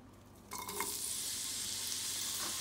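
Onions tipped into about 1.5 tablespoons of hot oil in a pot burst into a loud, steady sizzle after a quiet half second, with faint stirring clatter, continuing evenly to the end.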